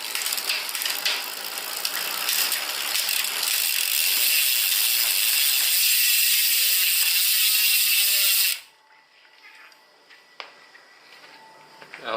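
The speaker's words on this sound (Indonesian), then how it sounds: "Kita akan tes ya untuk perpindahannya dari tadi yang udah kita setting ya, dari gigi yang paling besar" Rear derailleur on a folding bike shifting from the largest to the smallest cog, giving a loud, steady ratcheting chain-and-gear clatter for about eight seconds before cutting off to near silence with a few faint clicks.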